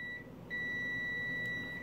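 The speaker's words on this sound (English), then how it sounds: "0 ohms or close to 0 ohms, it's going to beep" A multimeter continuity tester beeps while checking bulbs on a half-working strand of Christmas lights: a short blip, then a longer steady electronic tone, clear over low background hiss.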